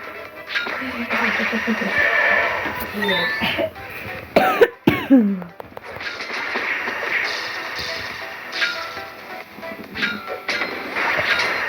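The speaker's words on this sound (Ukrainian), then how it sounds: "в мене кашель є" A few sharp, harsh coughs burst out near the middle, between stretches of a person talking close by.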